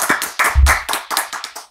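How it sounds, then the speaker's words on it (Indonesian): An audience claps in welcome for Buya Anwar Abbas at a talk-show gathering: a short, loud burst of rhythmic, fairly close hand claps lasting under two seconds. "Tepuk tangan buat Buya Anwar Abbas."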